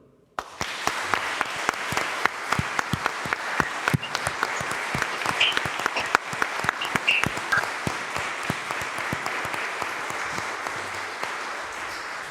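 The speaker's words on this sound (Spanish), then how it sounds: "Aplaudamos vuestro logro." Steady, sustained audience applause at a lawyers' swearing-in ceremony before the Supreme Court, a full crowd clapping continuously in a large hall, with a few sharper individual claps standing out.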